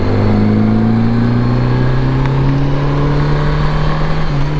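Honda GL1100 motorcycle engine on a test ride, a steady loud droning hum that rises slowly in pitch as it pulls, with constant road and wind noise and no talking.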